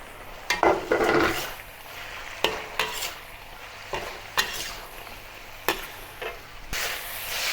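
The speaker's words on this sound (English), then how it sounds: "Lastly, return the deep fried eggplants to the wok and mix well." Deep-fried eggplant and mushrooms are tossed in a wok with repeated scraping stirs over a soft, steady sizzle. Close and rhythmic, the stirs come roughly once a second, with no talk.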